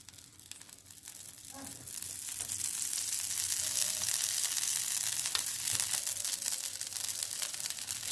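Oil sizzles steadily around a dosa on a hot pan, a dense continuous crackle that swells after a moment and holds, close and loud with no talk.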